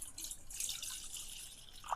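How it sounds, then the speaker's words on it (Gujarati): Water is poured into a bowl for batata vada batter, a faint trickling splash that holds steady and ends with a small liquid plop near the end. "આપણે પહેલાં પાણી નાખી દઈશું।"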